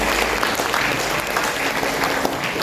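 An audience at a workshop session breaks into steady, dense applause, a continuous wash of many hands clapping at even loudness, with a faint low hum underneath.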